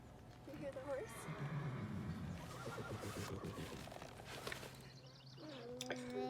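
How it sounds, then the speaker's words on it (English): A horse whinnies nearby outdoors in light rain, with one neigh early on and another shrill call near the end, over a constant murmur of people talking. "You hear the horse?"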